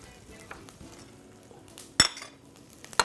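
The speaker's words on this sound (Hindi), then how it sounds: "बस लहसुन को फ्राई करना है" Garlic fries in an oiled pan in a home kitchen, a soft steady sizzle broken by sharp clinks of a spoon or utensil against the pan, fairly close and without talk.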